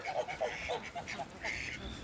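Ducks on a muddy, rain-soaked farm give a run of short quacking calls close by, several rapid bursts in the first second, then a longer nasal honk toward the end over steady wet background noise.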